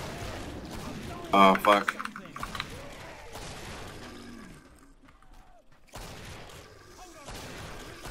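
A burst of HSG gunfire in the video game Killing Floor on a Biotics Lab map, a short loud volley early on, then scattered quieter shots and game noise while someone talks and swears.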